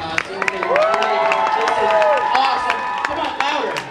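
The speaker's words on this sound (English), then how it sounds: "let's get another round of applause for all these awesome costumes" Crowd at a live costume contest applauding and cheering, a dense wash of clapping with whoops, while an announcer's amplified voice talks over it throughout.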